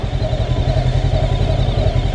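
Close and steady, the Gaokin Storr 500 motorcycle engine ticks over at about 1700 rpm in first gear, a constant low throbbing beat with light clatter.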